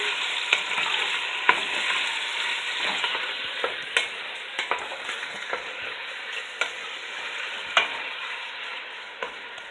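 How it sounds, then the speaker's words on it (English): Beef browns in vegetable oil and butter in a pan with a steady, bright sizzle. Frequent scraping and clicking from stirring runs throughout. "So what I started with was some vegetable oil and a couple tablespoons of butter in my pan. And we're going to brown our meat."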